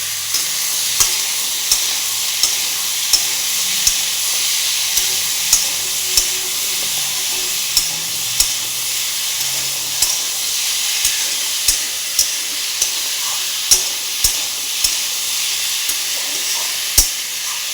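Cut pumpkin stirred and frying in a pan for a Bengali pumpkin curry, giving a steady loud sizzle with regular spoon scrapes and taps against the pan, no talking.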